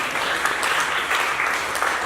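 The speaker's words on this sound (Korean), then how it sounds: "박수!" Dense, steady applause from a church high school youth group at a summer retreat, a close, continuous wash of clapping with no talk over it.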